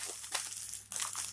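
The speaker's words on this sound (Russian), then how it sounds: "открываю очередную посылку из Китая" A small crinkly plastic parcel bag from China, holding a power bank case, rustles and crackles in a few quick bursts as it is handled and opened up close.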